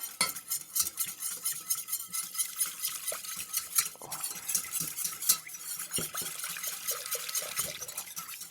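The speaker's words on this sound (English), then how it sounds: "We'll whisk that together just to dissolve the corn starch, corn flour." A whisk beats a little stock with cornstarch in a bowl for tomato soup, making a continuous rapid scraping and clinking against the sides, close and busy for the whole stretch, with no voices.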